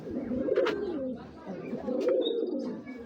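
Sapchila breed pigeons cooing close by: two soft rolling coos a second or so apart, with a faint brief chirp and a little background noise.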